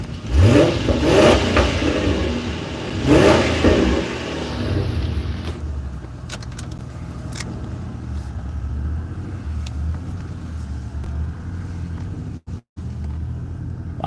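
A 2001 Dodge Ram pickup truck engine revs hard twice in quick bursts, then drops back to a rumbling idle that continues for several seconds, close and loud.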